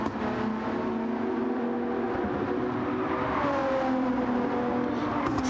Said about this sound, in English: Phenomenal sounding car, this Nissan GTR.